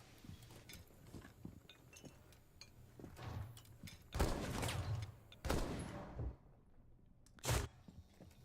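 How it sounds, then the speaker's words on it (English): Cluster charges from a fuse grenade go off in Rainbow Six Siege during a competitive match, giving faint distant thuds and then three louder clustered bursts in the second half. "As the fuse grenades finally going off with a minute left in the round."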